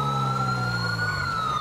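A police siren wails steadily and loudly in a FiveM roleplay game, a sustained tone over a low vehicle engine drone, with no talking.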